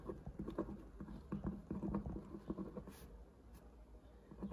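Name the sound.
writing on paper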